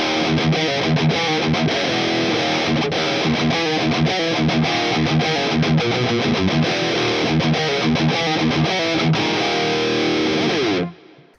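Raw distorted electric guitar on a Boss Katana MkII preset, a loud continuous thrash rhythm riff of fast chugging palm mutes, ending abruptly.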